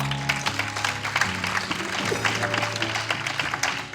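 A church congregation claps and cheers in acclaim of Jesus, a dense, continuous wash of applause with music and voices underneath, steady and loud throughout.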